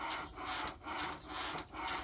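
A spring pole lathe turns a piece of hard maple, producing a close rhythmic scraping as the cutting tool bites on each down-stroke, about four even cycles with no talk.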